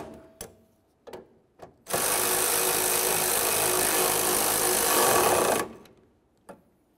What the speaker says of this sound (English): now I'm going to tighten up all 3 of my mounting bolts